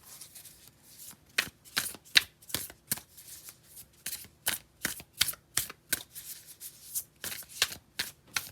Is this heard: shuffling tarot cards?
yes